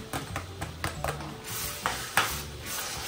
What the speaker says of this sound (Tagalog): ilalagay na natin ito yung luya